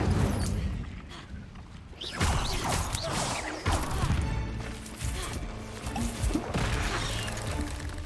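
Fire spell casts in Hogwarts Legacy, several whooshing flame bursts and crashes in close succession amid busy combat effects, loud and layered with no clear pauses.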